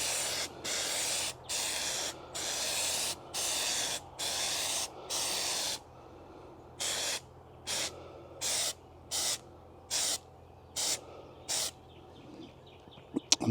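A spray can applying a second coat of stone-texture paint to a car trunk, a series of short hissing bursts in a steady rhythm, close and loud, with brief pauses between each pass.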